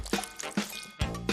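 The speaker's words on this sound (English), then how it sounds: "Now, add water." Water splashes into a mixing bowl of flour for apple pie dough in a children's puppet kitchen scene, coming in several short, close pours and drips.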